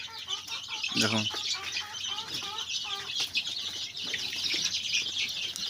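About eighty-nine young chicks cluck and peep close by in the morning, giving busy overlapping chirps with occasional wing flutters while someone talks over them.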